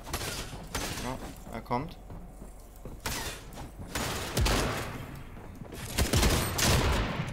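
Fortnite gunfire crackles in repeated bursts and single loud shots across the whole stretch, close and punchy, while a player speaks briefly over the shooting.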